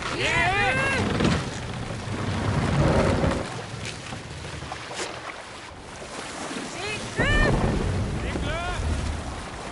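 A Viking longship under sail on open sea in Assassin's Creed Valhalla, with steady wind and washing waves forming a broad roar that swells and eases, while gulls cry in short bursts overhead.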